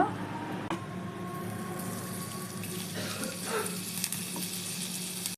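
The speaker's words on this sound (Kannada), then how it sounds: "ಸ್ವಲ್ಪ ಮೀಡಿಯಮ್ ಉರಿಯಲ್ಲಿ ಫ್ರೈ ಮಾಡ್ಕೊಳ್ಳಿ" Paneer pieces fry in melted butter over a medium flame, giving a soft, steady sizzle with a few light stirring clicks and scrapes, fairly quiet and with no voices.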